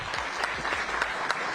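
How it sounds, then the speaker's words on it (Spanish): A short stretch of applause from a gathered audience at a public event in El Salvador, soft and steady with a few distinct claps popping out above the wash of hands. "Un aplauso."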